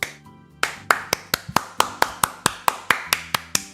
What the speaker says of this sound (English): Huge applause, everyone.